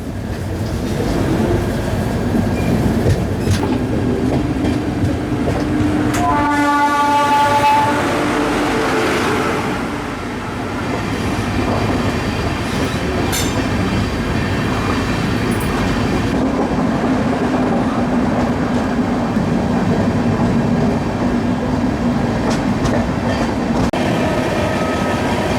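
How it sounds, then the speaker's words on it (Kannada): A double-decker express train hauled by a WAP-7 electric locomotive, on the Chennai to Bengaluru run, rumbles along loud and close with continuous rail noise, rhythmic clickety-clack and brief squealing tones, and no talk. "WAP 7 ಲೀಡ್ ಮಾಡೋದತ್ತು ನೋಡ್ರಿ ನಮ್ಗೆ ಇವತ್ತು."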